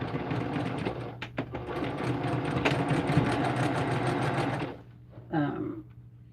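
A sewing machine runs steadily while stitching jelly-roll quilt blocks into units for a Northern Lights panel, a continuous close mechanical whir that stops near the end, followed by a brief quieter burst.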